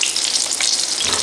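Pieces of fish pan-frying in hot grease, a loud, close, continuous hissing sizzle with fine crackling and no voices.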